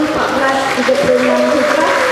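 Audience applause at a Maulid Rasul celebration gathering, a steady patter of clapping in the hall while a voice keeps talking over it.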